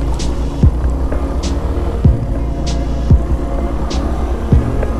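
A Suzuki GS 150 SE motorcycle engine runs loud and close while off-roading on a village track near Islamabad, holding a steady throbbing drone with a few sharp knocks and thumps at regular intervals.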